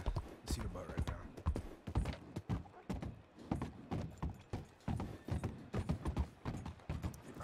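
A horse's hooves clip-clop at a steady walking rhythm in the Red Dead roleplay video game, close and clear, with occasional creaks of tack. Someone talks intermittently over the hoofbeats.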